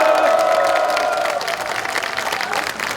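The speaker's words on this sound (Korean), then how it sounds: "다시 한번 우리 얼수 식구들한테 힘찬 박수 부탁드립니다" An outdoor crowd at a candlelight protest rally in Gwangju breaks into sustained applause and cheering. The clapping is dense and loud, with a tonal sound fading through the first half.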